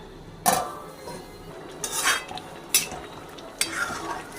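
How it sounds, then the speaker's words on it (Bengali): Bottle gourd being stirred in a cooking pot, then a lid set over it: a few separate scraping and clattering bursts of utensil against metal, fairly close, with no talking. "আমি লাউটাকে একটু এপাশ ওপাশ করে দিলাম, দিয়ে আবার ঢাকা দিচ্ছি"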